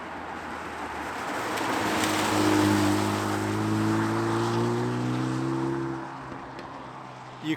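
A stage 2 tuned Mini GP3 rated at 353 bhp passes by with its exhaust valve closed, a droning engine note rising and holding as it nears, then fading away, heard fairly close outdoors.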